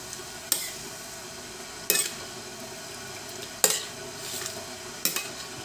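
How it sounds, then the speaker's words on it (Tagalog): Adobo meat sizzles in a pan while a utensil stirs it, with four sharp scraping clinks spaced a second or more apart over the steady fry. "Siyempre, i-mix lang natin."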